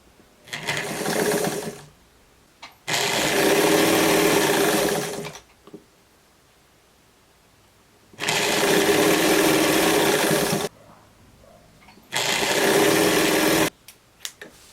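A sewing machine stitches stretched fabric on a simple summer dress in four separate bursts of steady whirring, each a couple of seconds long, with quiet gaps between them and no talking.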